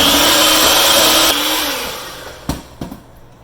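An electric mixer whirring through red velvet cake batter with milk and dry ingredients, a loud steady motor drone that winds down, followed by a few knocks and clatters near the end.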